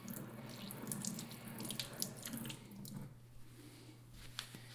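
Tap water runs steadily into a sink while a hand is rinsed, a soft continuous splashing with faint drips and squeaks, fairly quiet and close.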